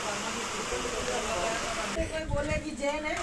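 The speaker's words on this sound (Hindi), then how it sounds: "बारिश देखो यहाँ कितनी ज़ोर हो रही है।" Heavy rain falling hard at a ghat on a hill station near Igatpuri, a steady loud hiss of downpour on surfaces throughout, with a brief change in texture midway.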